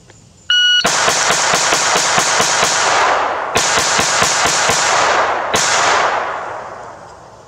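A SIG MPX fires a rapid 16-round dump in three fast bursts of sharp, loud shots. An electronic buzzer tone comes just before the first shot.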